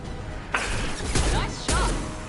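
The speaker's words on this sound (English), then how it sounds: "Firing concussive shot" A concussive shot fired in the Mass Effect 2 shooter, sharp impacts and a sweeping whine breaking through a busy battle mix, with two or three distinct hits over a couple of seconds.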